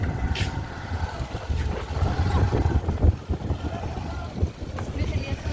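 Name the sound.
strong wind blowing outdoors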